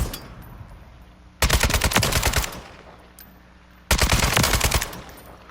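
Automatic gunfire from the Modern Warfare 3 video game, two loud rapid bursts of about a second each separated by a quieter pause.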